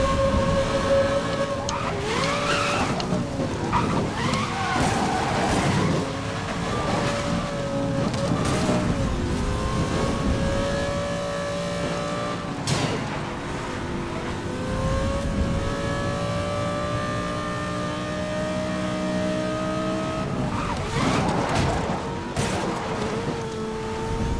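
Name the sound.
car engine sounds in the video game Need for Speed Most Wanted 2012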